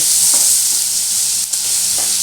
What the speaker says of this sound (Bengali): এটা আমি এখন একটু ভালো করে নাড়াচাড়া করব।